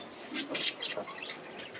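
Soft, high chirps from a three-month-old budgerigar chick, scattered in quick bursts, faint and close, with light background noise.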